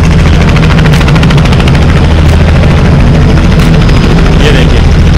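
A helicopter idles very close by at a helicopter ride event in Moradabad, its engine roaring loudly and rotor blades chopping in a fast steady pulse throughout.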